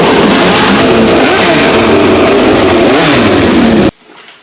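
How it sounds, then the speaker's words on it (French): Historic racing cars leave the pits at a historic Grand Prix, their engines a loud, dense, continuous roar with rising and falling revs, close and unbroken until a sudden cut near the end. "j'ai pu voir les voitures sortir"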